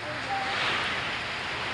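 Heavy wind and rain from Typhoon Carina, a continuous broad roaring wash that swells slightly midway, steady and enveloping with no distinct breaks.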